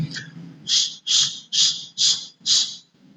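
A voice imitates a goose call with five evenly spaced, hoarse, honking bursts, close and fairly loud, with no other talk.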